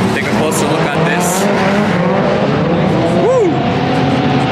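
A Toyota Verossa drifts on a circuit, its engine droning loudly under tire squeal that rises in a sharp arc near the end, close by, with voices talking over the noise.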